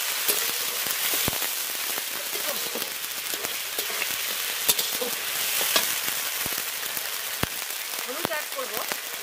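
Ginger and cumin paste goes into hot oil for a Bengali chicken curry cooked outdoors beside a pond, giving a crackling, spattering sizzle with sharp pops and clicks, fairly close and steady, with faint voices in the background.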